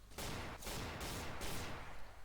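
Shotgun fire in Garry's Mod, heavy blasts repeating roughly every half second in a loud, continuous volley with no talking.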